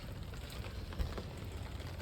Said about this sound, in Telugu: ఫుల్ వర్షం బట్టలన్నీ తడిసిపోతున్నాయి